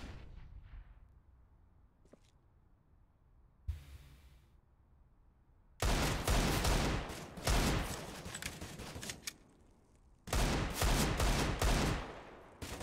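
Gunfire in a Counter-Strike match on the Overpass map, with a few quiet isolated shots followed by two long stretches of dense, rapid, loud shooting separated by a brief lull, with no talking.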